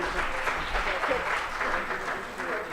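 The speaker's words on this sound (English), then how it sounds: "Please give them a round of applause." An audience at an afternoon plenary and awards session applauds partners on stage, with continuous, moderately loud clapping throughout.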